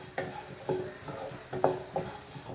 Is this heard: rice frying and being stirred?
yes